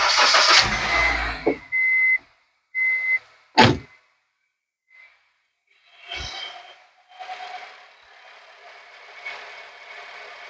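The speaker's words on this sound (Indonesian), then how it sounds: "Sekarang kita nyalakan mobilnya ya." A car engine starts during a check of the charging system on a vehicle that drains its battery: a short loud burst of cranking, then brief beeps, a sharp thunk and a quieter low running sound afterward.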